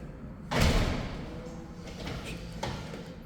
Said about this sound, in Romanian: Uitați, ușa se închide trăgând de mâner.